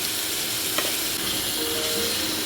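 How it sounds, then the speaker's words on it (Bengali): Raw mango pieces frying in a pan with salt and turmeric give a steady, fairly loud sizzle throughout, with one brief scrape of stirring partway through and no talking. "একটুখানি ভেজে নেবো"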